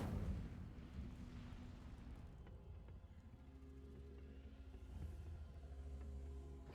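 Incendio fire spell cast in the Hogwarts Legacy video game, a booming, rumbling burst that flares loudly at the start and then settles into a sustained low roar throughout.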